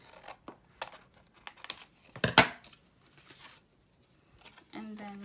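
Paper is torn by hand for a vintage-style junk journal, with several short crisp ripping and rustling bursts close by, the longest and loudest near the middle, between quiet pauses.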